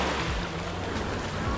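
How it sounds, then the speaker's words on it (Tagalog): Rough sea waves slap and churn around a small tour boat off Boracay, with steady wind buffeting the microphone in a constant broadband roar and low thumps from the hull. "Malakas na yung alon."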